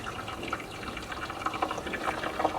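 Oil pan heater working on engine oil in a 4000 hp 572 ci drag engine, giving a steady close-up sizzling, bubbling hiss with small crackles and pops throughout.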